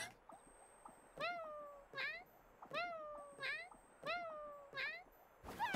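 A video game cat meows over and over in short paired calls at a steady, repetitive rhythm, clear and close above a faint background hum and a thin tone; no talking.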